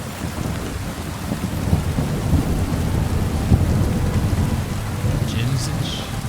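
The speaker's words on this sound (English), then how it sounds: "Man, that is one hell of a lightning strike." Thunder and heavy rain in the medieval video game Kingdom Come: Deliverance 2, a dense steady downpour with deep rolling rumbles throughout and a brief crackle near the end.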